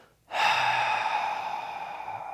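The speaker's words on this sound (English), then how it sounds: "So the first thing we end up doing is we're gonna fully exhale" A single long, breathy open-mouthed exhale, like fogging a mirror, begins abruptly after a brief quiet moment and holds steady and close before slowly tapering off.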